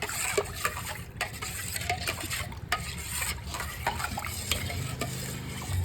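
A ladle stirs chilli powder into a vegetable sambar base in a pot, giving repeated scraping strokes and wet sloshing over a low, continuous simmering sizzle.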